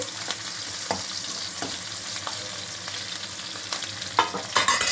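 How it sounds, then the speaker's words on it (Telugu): Oil frying steadily in a pan with crushed garlic, a dense continuous sizzle broken by scattered scraping clicks of stirring, close and fairly loud throughout, with no voices. "ఆయిల్లో ఫ్రై చేసుకోవాలండి ఇవన్నీ."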